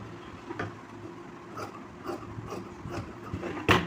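Scissors cut cloth for a Naidu hall blouse body pattern with a series of soft, rhythmic rasping snips, close and fairly quiet, ending in a slightly louder crunch.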